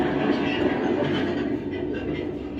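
An N scale model train rolls along its track on a small military base layout, giving a steady, close rumble that holds for a couple of seconds without a break.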